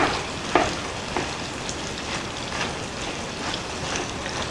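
Onions tossed into a hot frying pan of Beyond Meat filling for enchiladas give a soft, steady sizzle with a few light clatters and scrapes, near and unaccompanied by talk.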